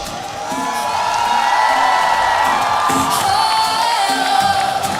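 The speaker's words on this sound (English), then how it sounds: "A big round of applause, ladies and gentlemen." Crowd at a football final roaring with whoops and cheers in a loud, sustained wall of noise, shrill shouts rising above the mass of voices, with scattered applause mixed in.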